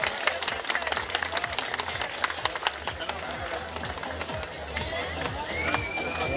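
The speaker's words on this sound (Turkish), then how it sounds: "Alkışlar yüksek, alkışlar yüksek." A festival crowd claps at the Osmangazi grape festival, the clapping mixed with chatter, a low rhythmic pulse and voices throughout, moderately loud and continuous.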